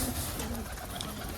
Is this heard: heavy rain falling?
no